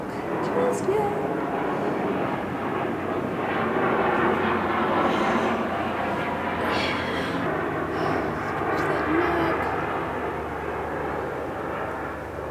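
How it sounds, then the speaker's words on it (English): An airplane drones steadily overhead, a broad, distant rumble that holds for several seconds outdoors, with a voice talking quietly beneath it. "Plane going overhead."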